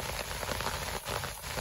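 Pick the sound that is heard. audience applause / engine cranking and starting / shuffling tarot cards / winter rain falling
winter rain falling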